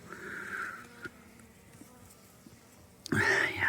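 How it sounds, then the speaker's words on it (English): Honeybees buzzing faintly at a snowy hive entrance in late winter, a low steady hum for most of the stretch before a louder, closer burst of buzzing near the end. "Bee activity in there."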